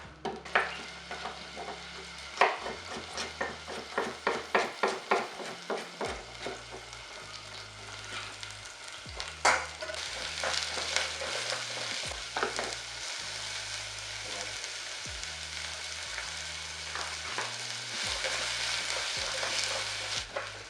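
Dry-aged duck skin sears in a little cooking oil in a frying pan, giving a steady close sizzle. Stirring scrapes and clatter are heard early on, with no talk.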